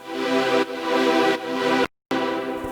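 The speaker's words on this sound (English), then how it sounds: "This is the kind of string sound on its own." A synthwave string synth patch plays on its own, sustained chords with a few breaks and a brief silent gap near the end, steady and fairly loud.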